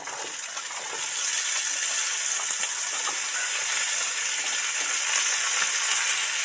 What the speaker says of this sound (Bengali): পেঁয়াজগুলো সব সফট করে ভাজা হয়ে গেছে এবার এই আলু টুকরো কাটা এর মধ্যে উঠিয়ে দেব